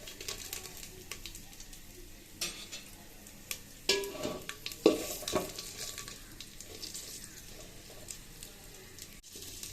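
Dried red chilies and five-spice seeds fry in hot oil while vegetables are being cooked. A faint, steady sizzle runs throughout, with a few sharper pops and the clink of stirring in the middle.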